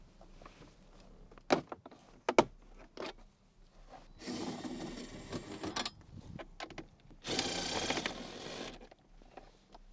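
Plastic centre console trim panel on a Chevrolet Tahoe being pried loose, with sharp clicks and snaps near 1.5 and 2.5 s followed by longer scraping, rattling bursts of plastic movement, close and fairly quiet.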